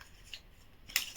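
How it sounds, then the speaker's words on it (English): Pair of scissors handled at a craft table, giving two brief faint metallic snips or clicks, a small one early and a brighter one near the end. "Another pair of scissors"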